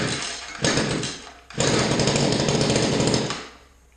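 A Mantis rototiller's small two-stroke engine, just tuned with a new carburetor and choke set, fires briefly, cuts out, then catches and runs with a loud, steady buzzing roar before dropping off near the end.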